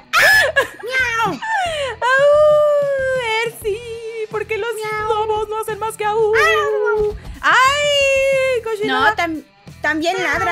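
Several people imitate cat meows with their voices, trading drawn-out, wavering miaow cries amid playful animal-sound mimicry; the calls are close, loud and overlap with shrieks and laughter-like yelps.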